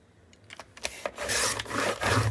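A blade trims a paper strip for a collage, giving a few dry scraping rubs that build into a longer rasping cut, close and fairly loud.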